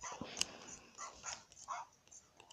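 A cartoonish dog in a Dalmatian video game gives a few faint yips and barks, with soft game sounds and a voice talking lightly over them.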